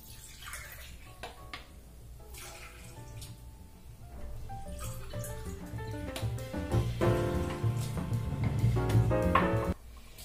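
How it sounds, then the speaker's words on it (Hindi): Water is poured from a vessel into a gram flour mixture with spices in a bowl, a burbling, rising pour that grows fuller and louder over several seconds before stopping, close with no talk. "अब दोस्तों इसमें हम डालेंगे ढाई कप पानी"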